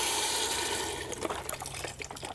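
Beef broth poured from a box into a pot of Mexican bean soup, a steady liquid stream at first that gives way to splashes and drips, fairly faint and close.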